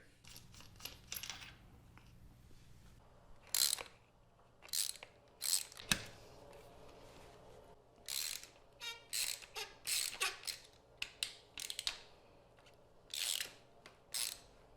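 Screws are removed from a Ducati Monster S2R 1000 motorcycle with a ratchet, heard as close, quiet bursts of rapid clicking in irregular spurts separated by short pauses, with one sharp metallic knock partway through.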